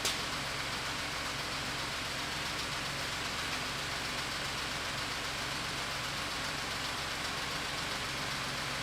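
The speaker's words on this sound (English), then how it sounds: "A little louder on this side from the fuel pump," A Ford F-150 pickup's 3.5L EcoBoost V6 runs steadily, its high-pressure fuel pump adding a dense, even mechanical ticking and hiss close up with no break and no voices.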